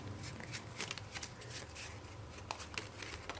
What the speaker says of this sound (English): I'm just going to be doing some shuffling, shuffle. This is how I power shuffle.